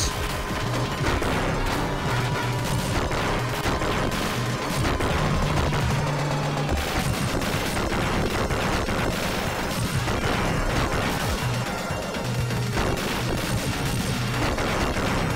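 Dense, chaotic bursts of gunfire and booming explosions from bombs in the Sega Mega Drive game Gunstar Heroes pile over each other almost nonstop, loud and close, with no voices.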